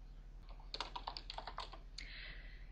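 Computer keyboard typing of commands in the Aardwolf MUD text game, a quick run of close, crisp key clicks ending in a brief faint whine.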